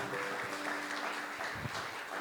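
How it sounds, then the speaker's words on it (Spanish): A congregation at a church service applauds with a sustained, even roar of clapping that stays fairly loud for the whole stretch, with faint voices underneath. "Dale un fuerte aplauso a nuestro Señor maravilloso."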